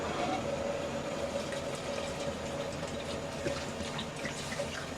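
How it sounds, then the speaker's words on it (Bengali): Water pours steadily into a pan of cooking greens, making a continuous, even gush at moderate level that lasts throughout, with no talking. "এখন আমি জল দিয়ে দিব"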